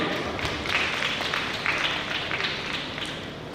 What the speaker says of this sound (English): Big applause to him.